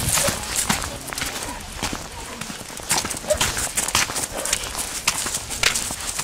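Horse hooves clip-clop at a walking pace in a video game fox hunt with beagles, a steady run of close, bright hoofbeats over faint background ambience.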